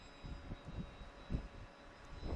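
DJI FPV drone motors droning steadily in flight, a continuous buzzing whine with faint tonal lines and low gusty rumble from strong wind, fairly faint and without talk.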